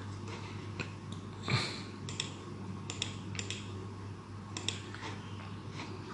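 Someone types on a computer keyboard while filling in fields of an online account sign-up form. Scattered key clicks come in short bursts over a steady low hum, with no talking.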